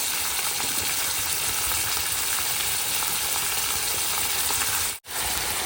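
Red chillies frying in hot oil as onions go in for a cowpea curry, a dense, steady, fairly loud hiss of sizzling that cuts out briefly near the end before resuming.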